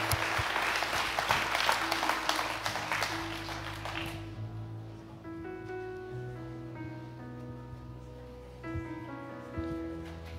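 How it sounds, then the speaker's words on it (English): Church congregation applauding mothers on Mother's Day, a loud burst of clapping for about four seconds that falls off quickly, leaving soft organ or keyboard music playing alone. "I wonder if one more time we could go and give all the moms a great big hand clap."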